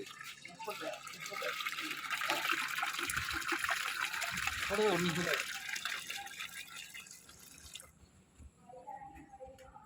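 Milk poured from a litre container into a large pot of rice kheer, a steady splashing pour that trickles and drips before stopping, with faint speech in the background.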